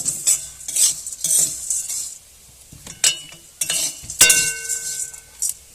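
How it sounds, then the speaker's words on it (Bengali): Spiced puffed rice tossed with chanachur in a metal pan, bursts of dry rustling and spoon scraping with sharp clinks against the pan, close and uneven, with brief pauses and no speech. "দিয়ে সব একসঙ্গে মিশিয়ে নেব দেখো"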